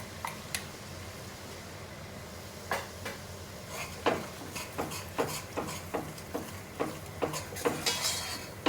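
Spices hit hot oil in a pan while a spoon repeatedly scrapes and clinks against the metal, a quiet sizzle under a run of sharp stirring taps that quicken and cluster toward the end, in a British Indian restaurant-style kitchen.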